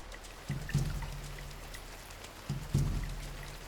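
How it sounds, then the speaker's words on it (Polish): Rain falls in The Sims game on a castaway island, a soft, steady, faint patter. Two low thuds sound about two seconds apart within it. "Jakieś dziwne odgłosy, deszcz pada."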